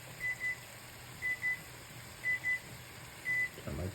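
A soft electronic timer beeps in regular double pulses, four pairs evenly spaced, faint against a low background hum.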